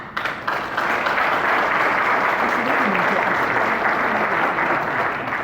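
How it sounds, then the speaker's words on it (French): A dense, steady wall of applause from a large audience at a political party event, loud and sustained for several seconds, with voices faintly mixed into the clapping. "Applaudissements."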